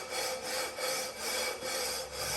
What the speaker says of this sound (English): Then you want to get a leveling beam. I got a little rough 80 grit on there on the side.